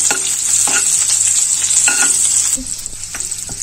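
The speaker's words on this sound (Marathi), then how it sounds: "तेलामध्ये लसूण व्यवस्थित परतवून घेऊया।" Garlic sautéing in hot oil for a fenugreek bhaji gives a steady, loud, close sizzle with a few scraping stirs, the frying easing slightly toward the end.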